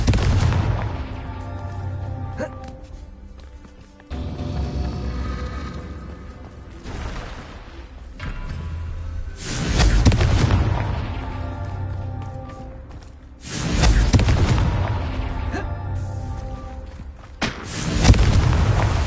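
Fire-spell blasts in the game Hogwarts Legacy: a string of loud booming explosions, several heavy thuds spaced a few seconds apart with rumbling tails and crackle between them.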